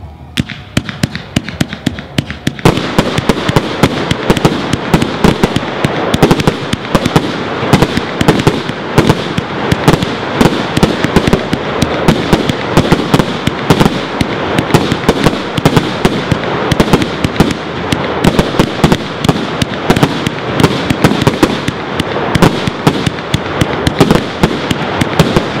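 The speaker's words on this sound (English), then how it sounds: "next up is the 100-shot Z Brocade King in green and purple with blue tail" A 100-shot Z Brocade King fireworks cake with green and purple effects and blue tails fires a long, loud, rapid barrage of launches and bursts, sharp cracks and thumps piling over one another almost continuously.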